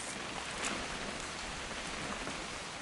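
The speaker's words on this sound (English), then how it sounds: "It's gonna rain the whole weekend, isn't it?" Steady rain pouring down in the video game What Remains of Edith Finch, a dense even hiss of drops with no voices, constant and fairly close throughout.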